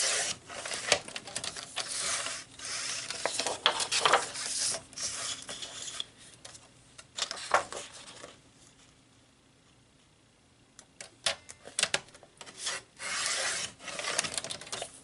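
Close, dry rasping strokes of a paper trimmer or blade cutting scrapbook paper come in repeated bursts, with a quiet pause midway before the slicing and rubbing resume.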